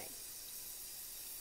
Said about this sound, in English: Spray a lot of that because it's a light color.